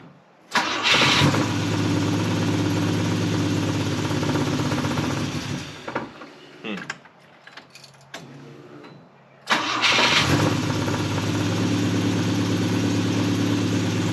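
A 50-year-old Volvo 164E engine, revived after sitting 20 years, starts and runs with a rough, lumpy idle, cuts out for a few seconds amid clunks, then cranks and catches again, idling loudly.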